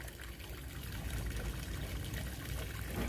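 Water poured steadily into a container to soak water spinach seeds, giving a continuous close trickling and splashing stream with no voices.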